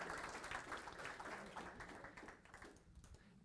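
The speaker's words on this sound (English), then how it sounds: "And now we can give another round of applause." A church congregation claps in a spread of fairly faint, distant applause that thins out and tapers off toward the end.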